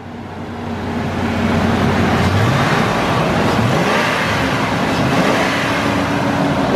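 A Ford F-150 engine fired up after a new ignition coil was fitted, revving up and then holding a strong, steady roar close by, with slight rises and dips in pitch.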